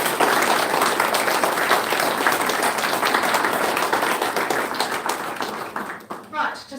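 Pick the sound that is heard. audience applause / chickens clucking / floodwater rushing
audience applause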